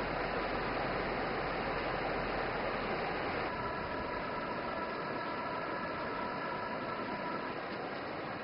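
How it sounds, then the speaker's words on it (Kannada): Heavy river water flows in a strong torrent, a loud, dense, unbroken roar that fills the whole stretch with no voices heard. "ಇಲ್ನೋಡಿ ನೀರು ಹೇಗೆ ಧಾರಾಕಾರವಾಗಿ ಹರಿತಾ ಇದೆ ಅಂತ."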